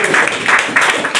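A church congregation claps and applauds to acclaim Jesus Christ, a short, loud burst of dense clapping with a voice heard briefly.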